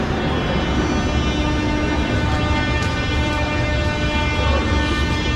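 A Kyiv metro train sits at the end-of-line station with a loud, dense, steady rumble and hum filling the platform, broadband roar with faint tonal whine and no distinct voices.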